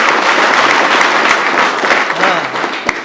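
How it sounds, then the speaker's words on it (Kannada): A group of students at a military training academy claps together in continuous, close applause for about three seconds, with faint voices beneath the clapping. "ಹೊಡ್ರಿ ಚಪ್ಪಾಳೆ."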